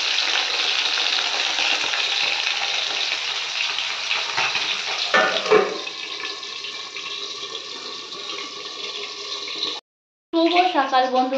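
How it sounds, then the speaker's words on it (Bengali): Bhola fish rubbed with salt and turmeric fries in hot oil with a loud, steady close sizzle, then a stir or two and a brief pause; a voice talks briefly at the end. "আর এই যে প্রথমে ভোলা মাছটা ভেজে নেবে।"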